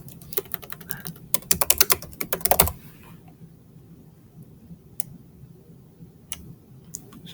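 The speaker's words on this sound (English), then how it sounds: "I'm just going to basically do this rather quickly and just type it" Quick clusters of keystrokes clatter on a computer keyboard while a progress note is typed, a dense flurry of clicks followed by sparse, isolated taps in a quiet room.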